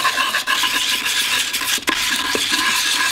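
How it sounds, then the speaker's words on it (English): Sandpaper rubs steadily over a ball of aluminum foil, producing a loud, continuous hissing abrasion with brief dips as strokes change direction. "I'm gonna try and sand this down a little bit."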